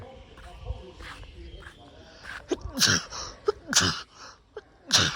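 A person sneezes several times in quick bursts, sharp and close, amid background rustling and movement while a crew unloads items from a vehicle.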